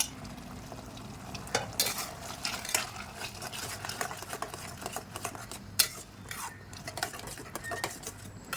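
Capsicum stirred in melted butter in a pan: a quiet frying sizzle sits under frequent close clicks and scrapes of a spoon against the pan, fairly busy and irregular, with no voices.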